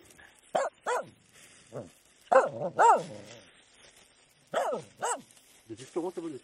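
A dog gives a series of short, sharp barks and yips in irregular bursts, fairly close, with quiet gaps between them.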